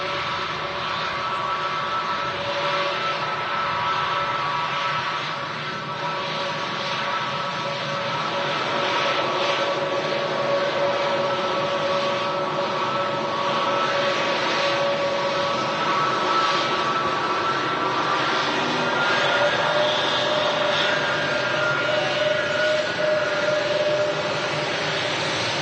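Airbus A320neo airliner with Pratt & Whitney PW1100G engines at Manchester Airport, a steady broad engine roar with a whining tonal hum held for the whole stretch, fairly loud and continuous with no talking.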